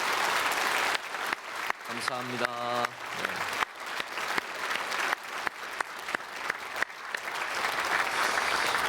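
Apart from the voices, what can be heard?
church congregation applauding to welcome newcomers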